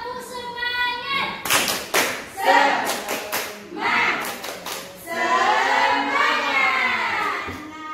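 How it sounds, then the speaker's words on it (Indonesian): A primary school class does a rhythmic 'tepuk semangat' clap routine, with bursts of patterned clapping and thumps mixed with children chanting together in unison, loud and close. "1, 2, 3, tepuk semangat."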